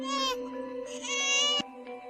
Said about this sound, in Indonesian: Kok sepertinya ada suara bayi?